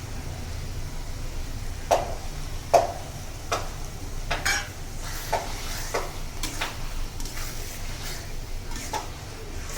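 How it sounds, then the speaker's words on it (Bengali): Prawns stirred into oil-slick fried masala in a pan, a steady sizzle under repeated scraping strokes of a spoon, close and moderately loud, with no talking. "এখন চিংড়ি মাছ আর মশলাপাতিগুলো ভালোভাবে নাড়িয়ে নিতে হবে"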